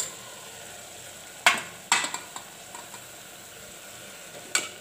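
Washed potatoes stirred into a pan of sautéed greens, a few sharp scraping clicks of a spatula against the pan over a quiet, faint sizzle.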